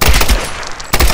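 Close, loud bursts of machine gun fire in the video game Tomb Raider, rapid automatic shots filling the clip with a short pause before the firing resumes.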